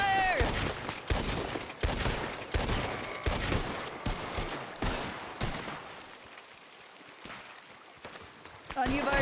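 Rapid gunfire from cover fire in the western game Red Dead Online RP, dense overlapping shots crackling for several seconds, then thinning out before a last burst at the end.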